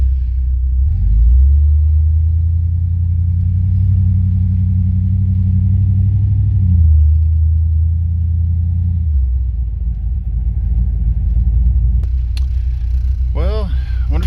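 Cadillac on a test drive after repairs with junkyard parts, its engine rumbling steadily and loud inside the cabin, pitch shifting as it accelerates and settles, with a person talking over it.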